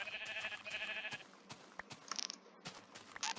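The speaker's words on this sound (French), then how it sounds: "Il y a plein de moutons, mon dieu." Sheep in the Minecraft video game bleat several times in quick succession, with game clicks and crunchy footsteps or block sounds scattered between the calls.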